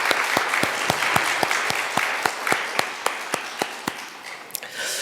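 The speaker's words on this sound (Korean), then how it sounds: "하나님 앞에 우리 다시 한번 영광의 박수" Church congregation clapping together at a Sunday worship service, a steady rhythmic beat of sharp claps with a soft crowd wash underneath, fading out at the end.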